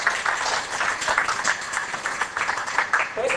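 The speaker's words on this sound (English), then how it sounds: "Ted deserves a round of applause for making that dry material very durable" Audience at a fire department conference session gives a round of applause for a presenter, steady moderate clapping lasting a few seconds, somewhat muffled and fairly distant.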